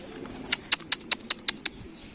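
Pigeons at a coop door give a quick run of seven sharp, evenly spaced flaps or clicks close by, over a faint background.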